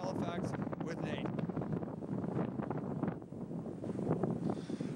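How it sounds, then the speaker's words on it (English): Strong wind gusts buffet the microphone outdoors in Halifax as snow blows across, a steady roaring rush that runs under a reporter's speech throughout. "We've got the natural snow blowing happening with the wind gusts just blowing snow across"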